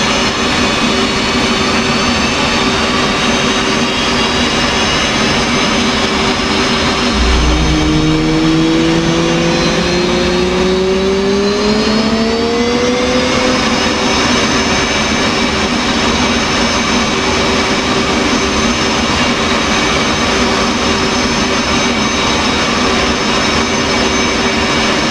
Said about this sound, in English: This will add fuel to the engine and start the igniters.